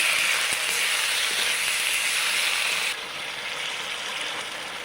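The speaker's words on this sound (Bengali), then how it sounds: "ভালো করে মশলাটা কষে নেব" A steady, dense sizzle of spices frying with turmeric and salt in a pan, loud and continuous, easing slightly quieter partway through, with no voices.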